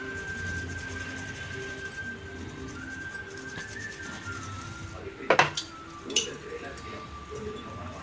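Brass pooja vessels being scrubbed and washed, with a few clinks and knocks of metal around the middle and scattered scraping amid background noise and birdsong.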